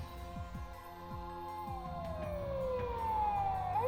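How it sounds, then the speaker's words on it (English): A police patrol car siren wails in the Steins;Gate game scene, a rising, sweeping tone that swells louder over a low throbbing rhythmic music bed, with no one speaking. "a shrill siren shatters the night"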